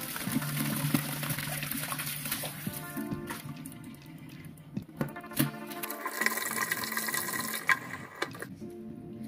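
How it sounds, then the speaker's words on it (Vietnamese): Tap water runs steadily into a sink while pig intestines are rinsed, a continuous splashing rush with occasional sharper knocks and clatters, no speech. "mình tiếp tục xả nước để rửa thật sạch"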